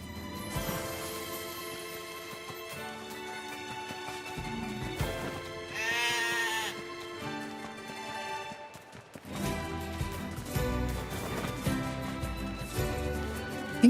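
Sheep bleating in the action game NieR: Replicant, a few wavering bleats rising over a busy layer of game music and ambience, moderately close.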